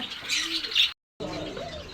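Pigeons on a farm coo and chirp close by, with a steady chatter of bird calls that cuts out briefly into silence before resuming.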